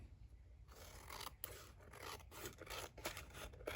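Scissors trim off excess paper from a mini album page, producing a close, quiet run of rasping snips and scratchy cuts in quick succession.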